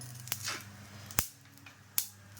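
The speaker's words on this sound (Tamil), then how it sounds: "உங்களுக்கு கடுகு வெடிக்கிறது தெரியும்." Three sharp pops spaced apart, mustard seeds bursting in hot oil, each a quick crackle over a low steady sizzle and hum, close by.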